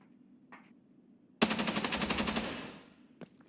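Automatic gun firing in the video game Escape from Tarkov: one loud, rapid burst of evenly spaced shots lasting just over a second, trailing off into echo, with faint sounds before and a single later click.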